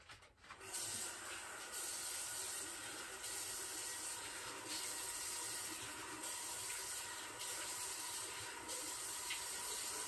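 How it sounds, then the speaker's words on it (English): A sink tap runs steadily while a beard is wetted under it, a soft continuous splash and hiss with faint changes as the water strikes, after a short rustle at the start. "I'm gonna wet the beard. I'm gonna use a sink"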